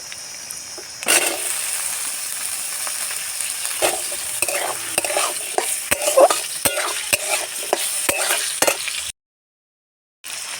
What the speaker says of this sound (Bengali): আলুটাকে একটু নেড়ে নিয়েছি